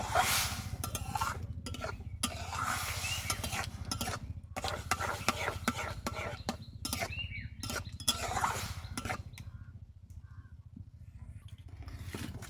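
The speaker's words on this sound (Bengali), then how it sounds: "দিয়ে এইভাবে মিশিয়ে খুব সুন্দর করে একটি ডো রেডি করে নেব" Semolina dough being stirred in a karahi produces repeated scraping and thick rubbing strokes from the spoon against the pan, over a low steady hum, with no talking.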